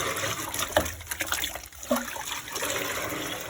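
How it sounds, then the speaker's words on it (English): Water splashes and trickles as a dyed synthetic wig, formerly blonde, is rinsed out, with a steady wet wash and a few louder splatters over about three seconds. "So we're gonna rinse this out here."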